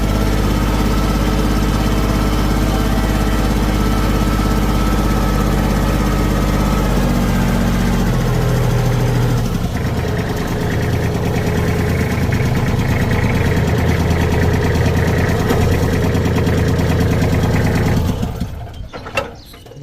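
A Kubota L3408 tractor engine idles steadily for nearly twenty seconds, a deep continuous rumble that shifts pitch midway before cutting off near the end.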